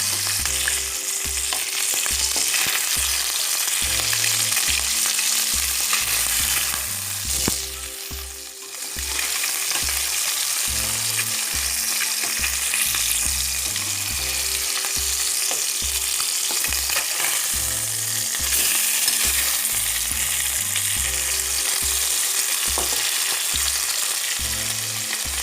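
Fish pieces for an Assamese tomato and gourd fish curry fry in a pan until lightly browned, giving a loud, continuous sizzle that runs throughout alongside a steady, rhythmic low beat of background music.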